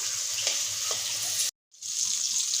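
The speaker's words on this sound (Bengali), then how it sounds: "আর একটু ভেজে নিচ্ছি হালকা করে।" Pangasius fish pieces frying lightly in hot oil give a steady, close sizzle and hiss that cuts out for a moment and then resumes.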